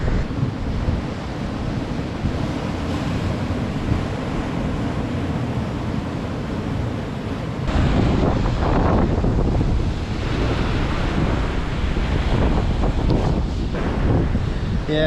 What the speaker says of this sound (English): these waves are just going to be too much for high tide.